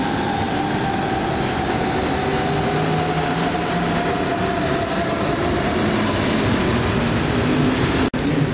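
A train in a Hamburg station gives a steady, loud rumble with a continuous low drone and faint tonal whine, broken by a single sharp click near the end.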